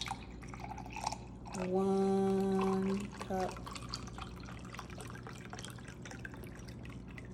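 Chicken broth pours from a cup into a crockpot over cooked ground beef for a penne dish, a steady liquid splash and gurgle of a few seconds while a person talks over it.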